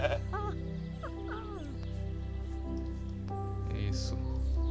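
Goats bleating in a farm game, several wavering calls in a cluster near the start with another later, heard over steady background music and ambient noise.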